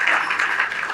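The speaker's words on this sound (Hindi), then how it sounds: "एक बार विप्रो वालों के लिए तो जोरदार ताली बजा दो" An indoor audience at a student placement celebration claps loudly for the students placed at Wipro, a dense, steady wash of applause with no breaks.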